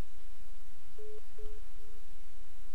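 After a phone call is hung up, a telephone line gives a busy tone: a few short, evenly spaced beeps, fairly faint over steady hiss on the line, with no voices.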